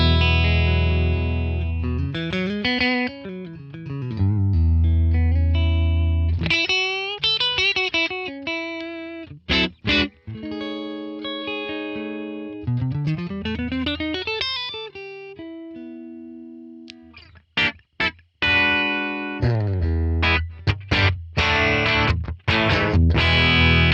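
Les Paul electric guitar played clean through a ToneX ONE running a Fender Super Reverb amp capture, loud and close, with strummed chords and picked melodic runs ringing out, a few brief pauses between phrases.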